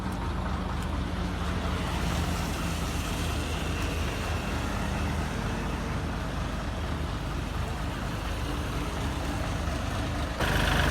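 A 175-horsepower Isuzu six-wheel dump truck works on muddy ground during the rainy season, a low, steady engine rumble with rough grinding that holds at a constant, moderate level before a slight shift near the end.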